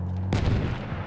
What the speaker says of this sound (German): Ich werfe eine Granate, aufpassen!